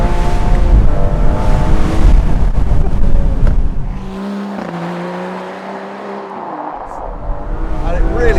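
A car engine revs on a winding Oregon road, a loud close drone that climbs in pitch, dips and climbs again amid road and wind noise.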